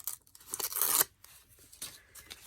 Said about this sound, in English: Obnoxiously loud paper ripping noises.